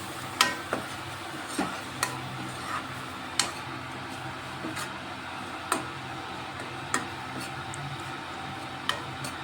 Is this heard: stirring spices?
yes